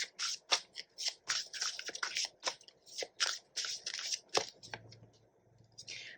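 Tarot cards shuffled and drawn during a Hindi reading, a rapid run of crisp, close flicks and slaps in an irregular rhythm, easing off near the end over a low hum.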